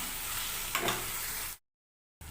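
Onions sautéing in a pan, a continuous close hiss of frying with a brief stirring swell partway through, then a sudden cut to silence before the sizzle returns.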